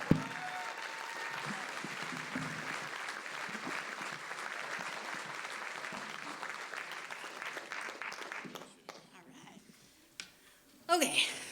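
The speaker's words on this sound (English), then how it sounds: "Let's give a nice round of applause for Melissa Buchta" An audience applauds a storyteller at an evening storytelling event, a sustained, moderately loud round of clapping that tapers off near the end before a voice begins.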